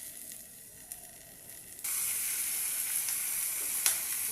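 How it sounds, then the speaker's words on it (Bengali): Onions and potatoes fry in a pan for a breakfast side. A quiet hiss swells into a loud, steady sizzle partway through, with a few scraping stirs. "রুটি দিয়ে খাওয়ার জন্য পেঁয়াজ আলু ভাজা হচ্ছে সকালের টিফিনের।"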